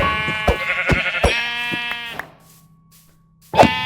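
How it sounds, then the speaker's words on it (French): Sheep in the video game Minecraft bleat in a loud, close run of quick repeated calls with a dull thud between them, then a brief quiet pause and one more bleat at the end. "Plein de moutons."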